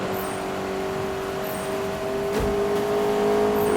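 A car speeds up in a Need for Speed racing game, its engine holding a steady loud drone with a brief whoosh partway through, sounding continuously and alone.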